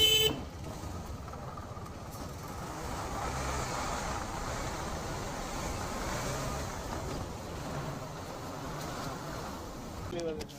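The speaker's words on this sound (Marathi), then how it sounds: "हे बघा हे ट्रॅफिक तर आता वाजवणार आहेच आमची" Car horns honk intermittently amid steady road traffic noise, heard from a motorbike ride near Mumbai, with voices talking over the rumble.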